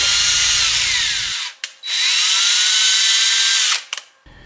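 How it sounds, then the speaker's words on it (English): A drill tap cuts a pre-drilled thread into a 3D-printed plastic hub for a filament dry box, whining loudly and steadily in two long runs separated by a brief stop, close up. "it just makes it a lot easier if you do a little pre-drilling with the drill tap"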